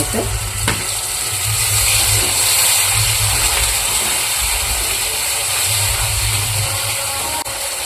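Water splashed into a hot pan of sugar while cooking Bengali bori kalia, a lentil dumpling curry, producing a loud, continuous hiss and sizzle that holds steady from start to finish.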